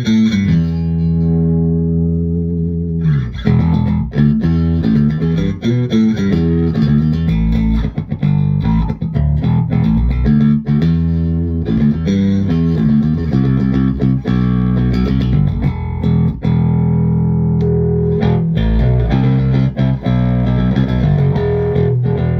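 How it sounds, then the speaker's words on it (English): Dingwall Afterburner I bass guitar played through an amp's built-in distortion, giving loud, continuous driven notes and shifting bass lines with a gritty, sustained edge that runs throughout, with no talking. "A little bit of distortion here right in the amp, built into the amp, just for fun, and see what that does to the tone."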